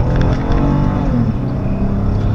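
A 2014 Toyota Sienna minivan pulling away from a stop, its engine making a steady, loud low rumble and rising drone heard from inside the cabin, without any talk.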